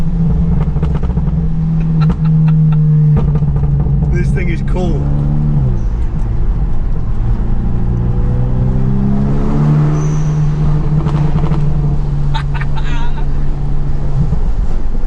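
A previously abandoned VW Scirocco R's engine drones loudly and steadily from inside the car on the move, its pitch rising and falling with the revs while someone talks over it.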